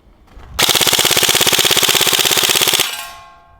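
An airsoft rifle fires a long full-automatic burst of about two seconds, rapid evenly spaced loud shots close by, with metallic ringing trailing off afterward.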